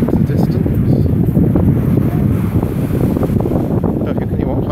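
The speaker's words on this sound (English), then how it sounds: "It's really windy down here" Strong wind on a beach on the Solent buffets the microphone in a constant, roaring rush, with no other distinct sounds standing out.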